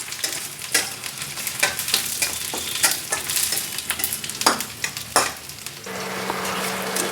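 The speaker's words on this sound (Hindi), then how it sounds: "हमारा प्याज जो है वो भून चुका है" Onions and green chilies sizzle in a hot pan while a spoon stirs and scrapes in short bursts; then the steady frying hiss continues alone.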